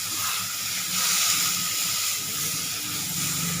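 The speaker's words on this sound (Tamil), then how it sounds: "நல்லா இந்த நெய்லேயே கொஞ்சம் பச்சை வாசனை போகிற அளவுக்கு வறுத்து எடுத்துக்கணும்." Grated beetroot sizzles gently in ghee in a pan, a soft steady frying hiss at low volume with no voices.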